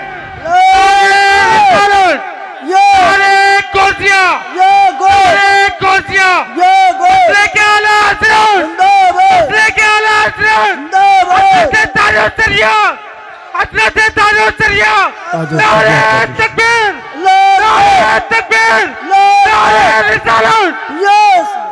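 A large crowd at a Sunni religious gathering roars back in response to a takbir slogan call, loud repeated collective shouts in waves, with the leader's voice calling between bursts.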